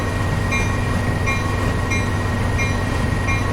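A train in the video game Train Sim World rolls along steadily, a loud continuous rumble of wheels and motor with faint rhythmic clicks from the rails.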